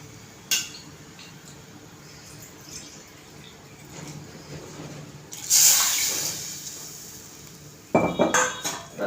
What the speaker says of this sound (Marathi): त्यातच मी पाणी ओतते